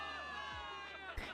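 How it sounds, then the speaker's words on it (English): Crowd of soldiers cheering in the video game Zenless Zone Zero, a brief burst of massed voices and whoops that swells near the end with a sharp thump. "Cheers rise up from the gathered soldiers."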